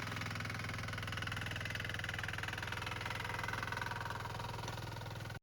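A Sharp Garuda diesel mini weeder engine idles steadily and close by in a coconut grove, a constant low chugging hum with no pauses throughout.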